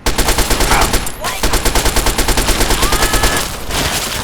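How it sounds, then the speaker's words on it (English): Rapid automatic gunfire in the video game Fallout 3, a loud, dense burst of rattling shots that continues almost unbroken for several seconds with one short pause, close and dominant over everything else. "Opening fire."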